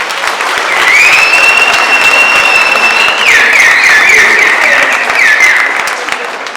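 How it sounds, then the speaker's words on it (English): A crowd at a Patriotic Alliance regional leadership launch in Vaal gives loud, sustained applause, building quickly and holding steady, with a shrill whistle cutting through partway before the clapping tapers off. "Let's give them a round of applause."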